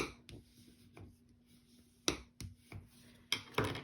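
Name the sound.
creasing a paper flap with a bone folder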